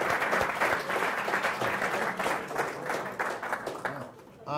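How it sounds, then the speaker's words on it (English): An audience gives a round of applause at a talk, dense steady clapping from a room full of people that gradually tapers off. "Round of applause for Dan."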